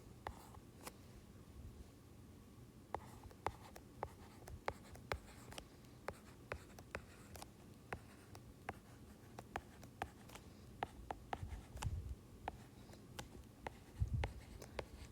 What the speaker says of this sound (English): We're just going to write that in sentence 2